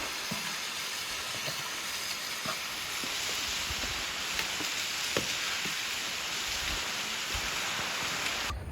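Rushing water from a waterfall and streams on a mountain trail after rain fills the air as a dense, steady hiss with no break, close and constant, with faint scattered ticks on top.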